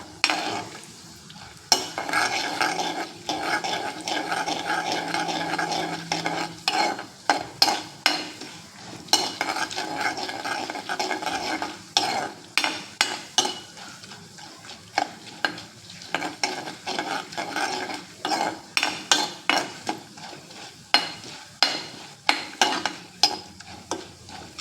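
Pulihora-style tempering (popu) for jackfruit curry being stirred and fried in a pan of sesame oil: a soft sizzle runs underneath while a spoon scrapes and clicks against the pan in frequent, irregular strokes.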